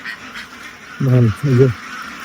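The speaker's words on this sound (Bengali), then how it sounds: "হাঁসের মাথা খারাপ হয়ে গেছে মানে বিকালের খাওয়া খাবে ওরা প্রিপারেশন নিচ্ছে" Farm ducks quacking excitedly before their afternoon feeding, two loud, close honking calls in quick succession over a soft background hum.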